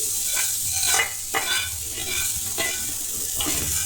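Mixing fried tempering through rice with grated raw mango and carrot for Ugadi pulihora, a spoon scraping and stirring in a steady rhythm with light crackle of hot oil, close and moderate.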